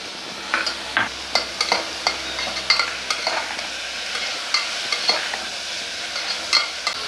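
Cut tomatoes sizzle in a pan of lightly browned frying onions while a spoon stirs, giving a steady frying hiss punctuated by regular clicking scrapes up close.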